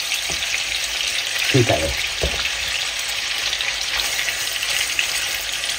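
Pork cheeks searing in a hot pan on the stove give a steady, close sizzle and crackle, with a few brief clatters of stirring or shifting meat; a voice says a couple of words.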